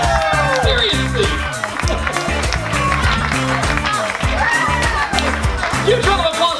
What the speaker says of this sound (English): Huge round of applause for Maura!